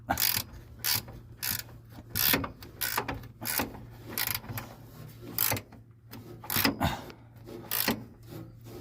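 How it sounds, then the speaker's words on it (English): A 9/16 gear wrench ratchets a bolt on a 1976 Ford F250, close rapid clicking in rhythmic bursts of strokes with a steady low hum underneath and no talk. "I found one on my gear wrench, 9/16. So okay, that's tightening it."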